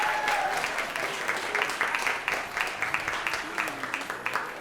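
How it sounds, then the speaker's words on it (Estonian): A crowd claps at a Christmas dance concert, sustained dense applause with some louder individual claps standing out, and a voice faintly heard beneath it. "teeme suure aplausi meie fotograafile"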